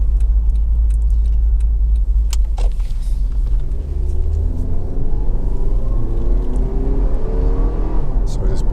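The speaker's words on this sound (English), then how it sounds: "So we'll just accelerate from our cars behind. Pick up speed really nicely." A Honda CR-V 2.0 i-VTEC automatic accelerates from inside the cabin, its deep engine rumble steady and loud while rising tones climb gradually as speed builds.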